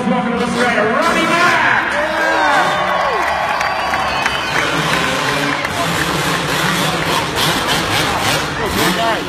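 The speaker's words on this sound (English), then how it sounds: "Ladies and gentlemen, have a round of applause" A large stadium crowd at a motocross event in Sydney claps and cheers loudly and continuously, with whoops and shouts rising above a steady roar while an announcer talks over the noise.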